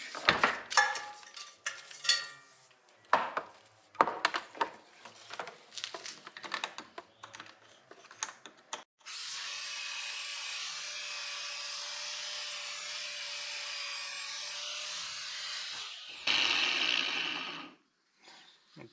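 A grinder runs steadily for several seconds, cutting a part off a professional AS-55 B1/4T mower with a Briggs engine, after a run of clattering handling noises, then rises briefly in pitch before stopping.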